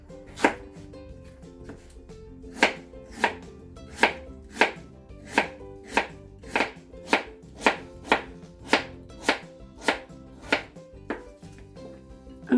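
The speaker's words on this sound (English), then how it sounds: "Now I'm going to cut the daikon radish." Knife chopping daikon radish on a cutting board for Japanese tonjiru, a steady run of about twenty crisp, close chops spaced roughly evenly, alone with no talk.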